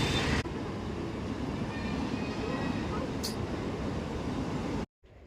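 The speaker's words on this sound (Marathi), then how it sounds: "ही इथे कळव्याला ट्रेन आली" A steady, loud rumble of a local train arriving at Kalwa station, running close by, with faint metallic squeals and a brief high hiss near the end, then a sudden cut.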